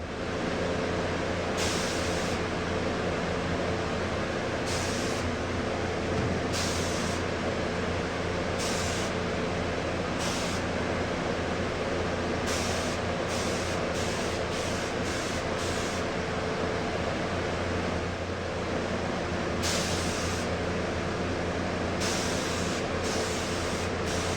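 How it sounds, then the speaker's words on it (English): A spray gun sprays lacquer onto a wooden buffet, hissing in repeated bursts, short sprays with brief pauses, over a constant background rumble of a compressor. "I'm gonna go ahead and spray everything to get to this same level"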